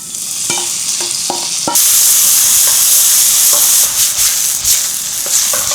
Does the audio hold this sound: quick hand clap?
no